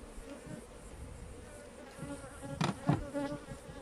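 Honey bees buzz steadily around an open hive being inspected, a dense close drone with louder swells as individual bees pass near, alone without speech.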